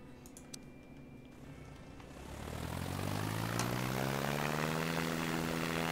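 A seaplane's propeller engine in the SimplePlanes game revs up for takeoff, the droning tone swelling and rising in pitch into a loud, steady roar.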